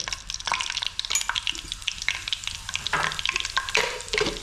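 Steady crackling sizzle of mustard seeds and garlic frying in hot oil, with scattered pops and occasional stirring scrapes, close up and fairly loud.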